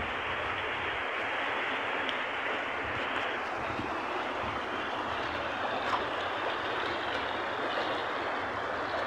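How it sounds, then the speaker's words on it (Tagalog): A steady, powerful rush of churning floodwater waves fills the whole clip, a dense continuous roar with no pauses. "Malakas po ng mga alon."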